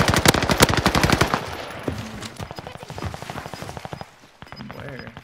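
Rapid automatic gunfire in a Call of Duty Warzone match, loud dense bursts of shots up front that thin into spaced cracking rounds, with game sounds mixed in and no clear talk.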